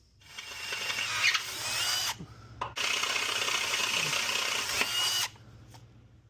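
A power drill whirs loudly in two sustained runs with a brief pause between, close by and grinding through material while drilling holes on a Ford Bronco.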